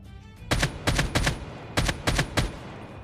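Gunfire from Call of Duty Mobile on the Crash map, heard as several rapid bursts of automatic shots in quick groups, loud and close, with no talking.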